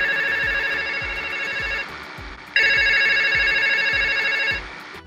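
Repeating telephone ringback tone while a call is placed to a driver about an Innova car hire, steady electronic rings in two bursts with a short gap, loud and alone with no talking.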